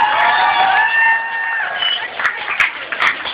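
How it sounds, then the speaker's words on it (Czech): Crowd cheering and whooping with scattered clapping for the winning girls at a dance competition prize-giving, loud and continuous with sharp yells near the end. "pořádný aplaus"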